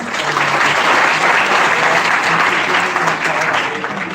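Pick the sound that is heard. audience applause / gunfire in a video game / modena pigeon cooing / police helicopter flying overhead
audience applause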